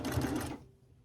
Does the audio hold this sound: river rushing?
no